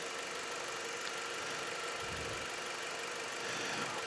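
A car engine idles at about 700 RPM, a faint, even low rumble with slight vibration throughout, with a soft thump midway and no voices.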